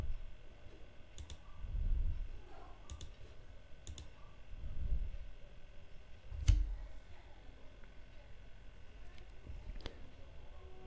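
Sharp, quiet mouse clicks while installing an AppImage app on Ubuntu, a handful of isolated single clicks spaced a few seconds apart over faint low background hum, with no talking.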